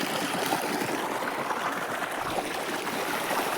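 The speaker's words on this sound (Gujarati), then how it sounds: "ઘઉંમાં પાણી ચાલુ છે મિત્રો।" Irrigation water running steadily into a wheat field on a farm, a continuous close rushing and trickling flow with no talk over it.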